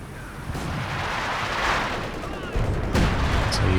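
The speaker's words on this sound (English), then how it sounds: "heavy mortar from DJ Penguin getting some nasty hits in" Heavy mortar fire in a Company of Heroes 2 winter battle, a dense rumble of explosions and distant gunfire building to sharper blasts near the end, under a commentator's voice.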